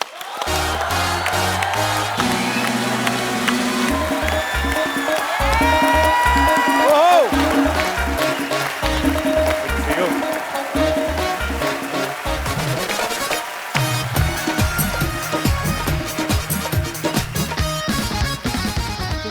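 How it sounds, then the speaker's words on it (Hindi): Studio audience on a Hindi comedy talk show, The Kapil Sharma Show, cheers and applauds loudly and continuously as an actor is welcomed, with band music playing over the crowd throughout. "आप सबकी जोरदार तालियों के बीच"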